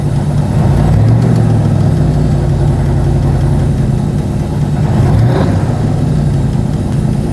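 A car engine idles steadily and loudly throughout, with a low, even running tone and faint ticking from the valvetrain, checked for camshaft or lifter noise.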